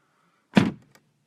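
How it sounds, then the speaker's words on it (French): Door of a BMW M3 F80 Competition opening with a single solid thunk and short mechanical release, close and fairly loud, followed by a faint click as it settles, no voices. "Quand on ouvre la porte."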